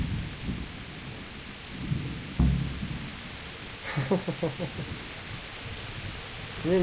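A thunderstorm in Kingdom Come: Deliverance: steady rain hiss runs throughout, a sharp thunder crack lands midway, and distant rumbles roll after it. A voice speaks briefly over the storm.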